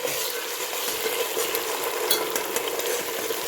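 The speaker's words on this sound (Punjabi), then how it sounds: "ਹੁਣ ਆਪਾਂ ਇਹਦੇ ਚ ਪਾ ਦਈਏ ਜੀ ਜਿਹੜੇ ਟਮਾਟਰ ਤੇ ਹਰੀਆਂ ਮਿਰਚਾਂ ਜਿਹੜੀਆਂ ਕੱਟੀਆਂ ਹੋਈਆਂ" Chopped tomatoes and green chilies sizzling in a pan with browned onions for Punjabi-style aloo gobhi, a close, steady frying hiss with light stirring and no talk.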